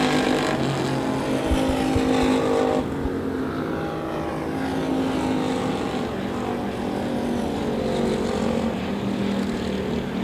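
Race cars roar around a dirt oval at Devil's Bowl Speedway in the final laps, a dense sustained engine drone with cars sweeping past, loud and continuous.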